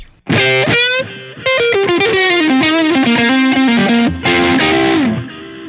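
An electric guitar played through a Line 6 POD GO with heavy reverb rings out as loud, distorted sustained notes and a descending melodic phrase, with washy trailing ambience, no talking.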